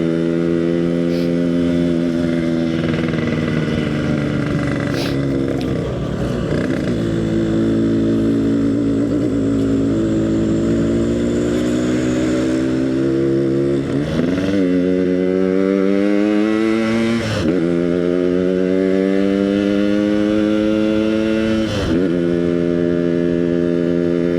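A Yamaha RX King motorcycle rides on a test drive, its two-stroke engine droning loudly and steadily, with the pitch rising and falling as the rider revs and shifts through gears.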